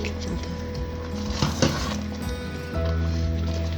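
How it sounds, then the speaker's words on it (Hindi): Chicken pieces go into a pot of spiced chicken haleem with a few soft clinks and a brief clatter of metal cookware. "और अब मैं इसके अंदर चिकन डालूंगी"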